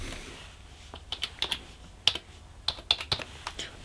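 A password being typed on a computer keyboard: a sparse, irregular run of light key clicks and taps, close and fairly quiet, with short pauses between strokes.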